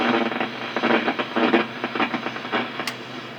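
Crackling, popping static and hiss from a Hammarlund HQ-120 tube radio receiver with its noise limiter switched off, a dense burst of irregular impulse noise filling the whole short stretch.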